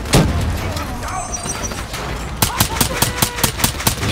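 Gunfire in the Call of Duty Black Ops 3 video game, with an early shot followed by a rapid run of sharp automatic bursts, loud and close over game background noise.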